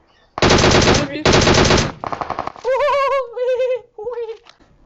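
Rapid automatic gunfire in the mobile shooter PUBG Mobile on the Erangel map, two dense loud bursts followed by choppier shots, with game voices and tones mixed in toward the end.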